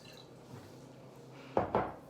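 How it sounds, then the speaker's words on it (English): Green-colored water poured from a jar into another container, quiet at first, then two short close splashing pulses of liquid hitting the vessel near the end. "Let me pour it into this."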